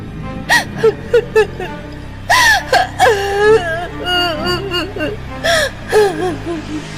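A girl cries in a forest behind a tree, close and loud, with repeated gasping sobs, whimpers and wavering moans in uneven bursts.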